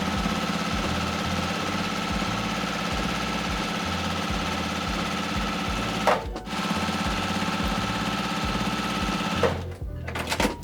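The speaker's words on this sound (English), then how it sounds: "I'm gonna go ahead and sew all the way around, giving myself a 1/4 inch seam" A sewing machine runs a continuous quarter-inch seam around a fabric bow, its rapid needle clatter steady and close, broken by two brief pauses.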